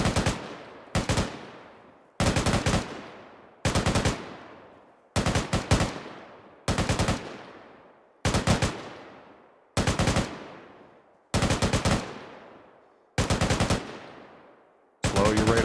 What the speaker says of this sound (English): Slow your rate of fire.